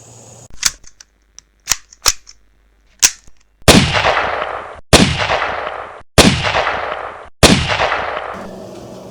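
A CVA Scout V2 rifle chambered in .35 Whelen fires four loud, booming shots at regular intervals, each with a long ringing tail, after several sharp, quieter clicks and clacks at the start.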